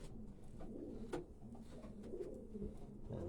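A racing pigeon coos softly in repeated low, throaty bursts, close by and quiet, with faint handling and room noise around it.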